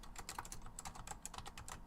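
Typing on a computer keyboard, a quick, irregular run of soft, close key clicks that carries on steadily without pause.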